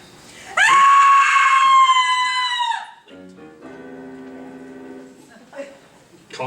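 A long, loud, piercing scream fills the first half of a murder-mystery radio play, then fades into a lower voice speaking.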